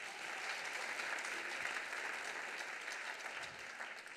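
Sustained, even applause fills a hall at the 2025 SCOPS commercial innovation awards ceremony, a dense steady clatter from many hands that tapers slightly at the end.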